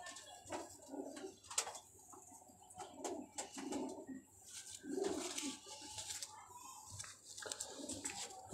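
Golden Teddy pigeons coo softly in a loft, low repeated throaty phrases recurring every second or so, with faint chirps and occasional wing or cage rustles around them.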